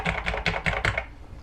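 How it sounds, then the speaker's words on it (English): Fingers rattle out a quick run of about six keystrokes on a Commodore 64 Ultimate keyboard, with crisp, evenly spaced clacks close up and nobody speaking. "like that keyboard."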